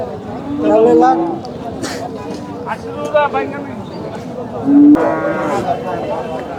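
Cattle low repeatedly at Jamalpur cattle market in Gazipur, Bangladesh, several deep moos close by, over the murmur of a busy crowd with voices talking.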